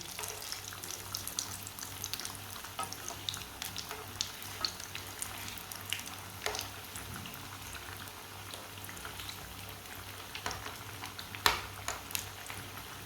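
Kebabs fry quietly in a pan on a low flame, a soft steady crackle dotted with small scattered pops and one sharper spit.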